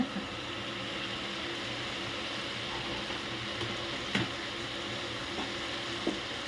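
Chinese kale stir-fried in a hot pan, a loud, constant sizzle broken by a few sharp scrapes and clatters of the spatula, close and steady without talk.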